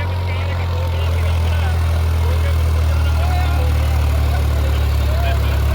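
A New Holland 3630 4x4 Super Plus tractor engine runs steadily at close range, a loud, continuous low rumble with a strong fundamental that holds for the whole stretch.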